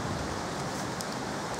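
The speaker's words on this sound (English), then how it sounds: "It's raining" Steady rain falls through woods at night, a dense, even hiss of drops on leaves and ground with no voices or other sounds.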